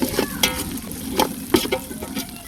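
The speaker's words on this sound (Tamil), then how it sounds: "இப்போ எல்லாத்தையும் நல்லா வதக்கி விட்டுடலாம்" Ginger, garlic and spring onion sauté in hot oil in a pan, a steady sizzle broken by several sharp scrapes and stirs of a spatula, close and fairly loud with no voices.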